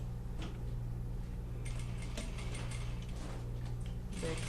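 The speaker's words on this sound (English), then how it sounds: "I can work from the wrong side of the fabric, and again I am stitching in this case at ½ inch seam allowance" A sewing machine stitches fabric at a half-inch seam allowance while a sleeve hem is being finished, giving a close, steady mechanical hum with rapid ticking needle strokes that come in short bursts.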